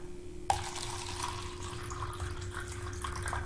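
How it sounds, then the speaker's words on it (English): Water pours steadily into a cup for an egg-and-soda experiment, a continuous close trickle that starts abruptly and runs evenly to the end, heard alone over a faint background hum. "So first I'm going to pour some water in the first cup."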